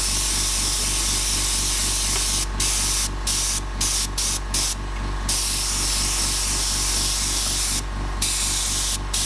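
An airbrush sprays a fine mist of paint onto an owl artwork, a steady hiss under a rhythmic compressor chug, interrupted by several short bursts of stronger spray.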